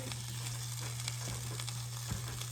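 A buttered steak quesadilla fries in a hot skillet, giving a steady, soft sizzle with faint crackles over a constant low hum, no voices.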